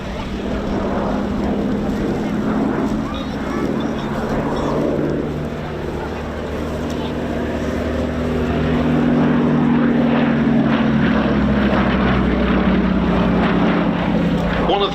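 The four propeller engines of Avro Lancaster "Just Jane" drone loud and steady on a taxi run at the East Kirkby airshow, a deep sustained roar that grows slightly heavier partway through, with a voice talking over it.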